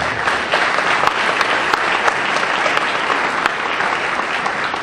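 Applause from a community choir concert audience honouring local garden donors, a steady, dense patter of many hands clapping at moderate distance, sustained without pause for several seconds.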